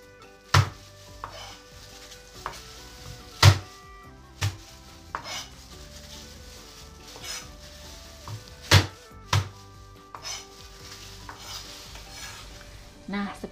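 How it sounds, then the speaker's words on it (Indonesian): Halved garlic cloves crushed on a cutting board in a kitchen, a series of sharp, separate thumps and knocks spaced irregularly, with faint clatter between them. "Saya belah jadi 2, kemudian saya geprek saja."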